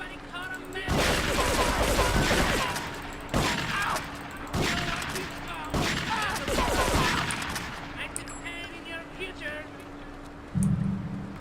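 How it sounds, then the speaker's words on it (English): Rapid gunfire from shooting enemies in the video game GTA III, with dense bursts of shots rattling continuously for several seconds at steady volume, then fading as a voice talks over it. "So I guess I shoot these guys."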